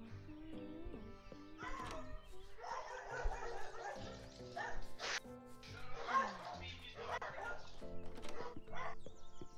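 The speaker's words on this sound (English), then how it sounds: "Sounds to me like your dogs are having fun." Dogs bark and yip in the farming life-sim game Littlewood, with game music and effects mixed in and a voice speaking over the quick, playful barking.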